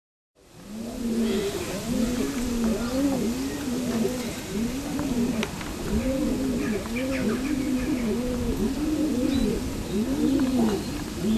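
Racing pigeons at a loft coo in repeated low rolling calls, many birds overlapping close by in a steady rhythm, with faint chirps and a few background voices.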